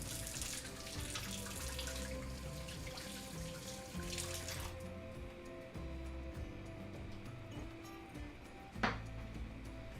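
Hands are rinsed under a running kitchen tap. The water flows in a steady, quiet splashing stream, with a short clunk near the end.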